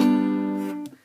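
A single chord on a guitar rings briefly and close, then decays and is cut off after about a second.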